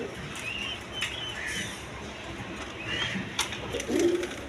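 A Danish pigeon pair coos softly amid a murmuring background, with brief wing flaps and scattered chirps; one clearer coo rises near the end.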